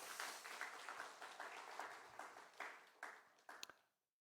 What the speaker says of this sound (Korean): 먼저 박수 한번 하겠습니다.